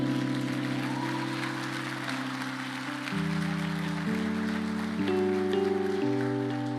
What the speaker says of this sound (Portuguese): Você pode aplaudir ao Senhor Jesus por isso?